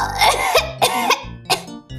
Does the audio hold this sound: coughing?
yes